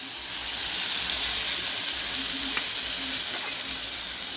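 Pork basil stir-fry sizzles loudly in a hot pan as mortar rinse water is poured in, a dense steady frying hiss with a brief splash and bubbling midway, close and with no voices.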